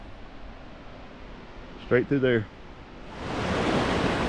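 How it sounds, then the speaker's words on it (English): High Falls, a large waterfall on a river in Nantahala Forest, North Carolina, roars as a steady broadband rush that swells louder toward the end, after a brief spoken phrase cuts in partway through. "there is a humongous waterfall right there, which I'm assuming is High Falls"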